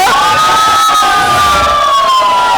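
A large crowd greets a film actress at a public appearance in Chandigarh with loud, continuous cheering and clapping, punctuated by shrill whistles, filling the whole stretch without a break.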